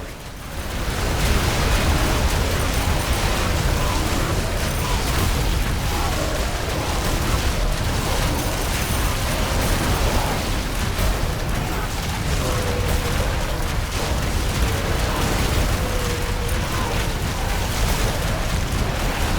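Base walls and towers being destroyed in The Riftbreaker, a dense, continuous roar of explosions, booms and mechanical noise that stays loud throughout with no breaks.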